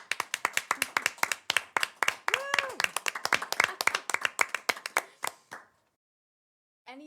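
Applause from a small group at a Park and Recreation Commission meeting, brisk overlapping claps for about five seconds, with a voice briefly audible among them, then it stops.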